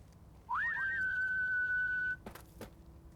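A whistle sounds in the video game Fallout: New Vegas (Old World Blues DLC), a rising then long sustained clear tone, followed by two short knocks.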